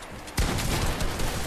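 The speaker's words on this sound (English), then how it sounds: "Did anyone see me shoot a blank right there?" A single sharp gunshot blast in Fortnite bursts out after a quiet moment, followed by a dense crackle of further fire and game noise.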